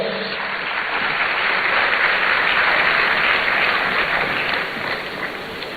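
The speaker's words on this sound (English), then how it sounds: "Let's give him a round of applause." Sustained applause from a large audience at a student programme launch in Ghana, steady and full for several seconds before tapering slightly at the end.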